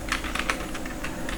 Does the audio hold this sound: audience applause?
no